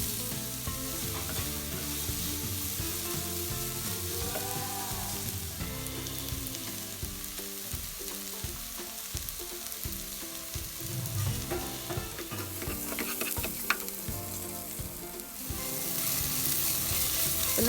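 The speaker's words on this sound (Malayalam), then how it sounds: "നമ്മൾ കട്ട് ചെയ്ത് വെച്ച സവാള ഇതിലേക്ക് ചേർത്തിട്ട് നല്ല പോലെ ഒന്ന് വഴറ്റിയെടുക്കണം." Chopped onions sauté in hot vegetable oil for pepper chicken, a steady close sizzle with occasional stirring scrapes throughout, no voices over it.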